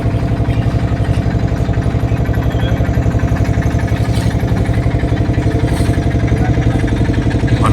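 A boat engine putters steadily on the Ganges at Varanasi, a close, loud, even idle-like chugging with a fast regular pulse and no talk.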